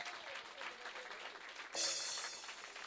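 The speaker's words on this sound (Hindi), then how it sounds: "और एक बार ज़ोरदार तालियों के साथ मुझे संदेशा दीजिए" Concert audience claps at a tribute show, a moderate ragged applause that is cut off midway by a bright burst of amplified music.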